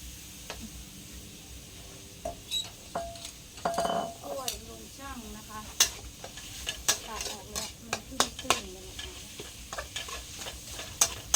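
Eggs frying in a small amount of oil in a pan, a soft steady sizzle broken by clicks and scrapes of a utensil stirring and tapping against the pan, with brief bits of voice in the background.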